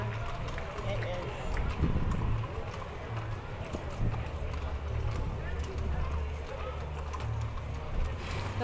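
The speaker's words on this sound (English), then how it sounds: "The horses are so beautiful." Horses' hooves clip-clop steadily through a July 4th parade in Ashland, Oregon, moving in a continuous rhythm under crowd noise and nearby talk.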